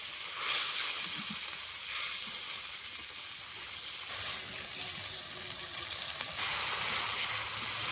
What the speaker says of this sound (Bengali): মশলাটা ভালো করে কষে নিয়েছি আর উপর থেকে দেখুন তেল ছাড়া শুরু হয়ে গেছে।